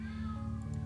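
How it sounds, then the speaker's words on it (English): A cat meows once, a drawn-out tonal cry that is close and clear over a low steady hum. "that was my cat"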